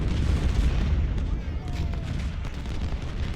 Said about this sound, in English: now there's a lot more cannons firing on the Confederate lines